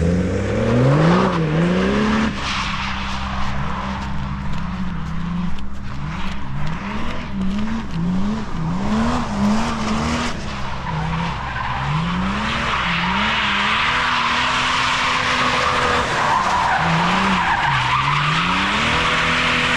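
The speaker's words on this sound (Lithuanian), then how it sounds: "nemažai šiandien čia drifto veiksmo" BMW cars drift at the Raguva kart track in Lithuania, engines revving hard in repeated rising and falling sweeps over continuous loud tire skidding and squealing, close by and sustained.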